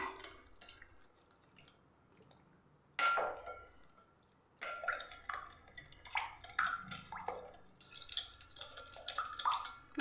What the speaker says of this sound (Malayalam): നല്ല പോലെ മിക്സ് ചെയ്തെടുക്കാം.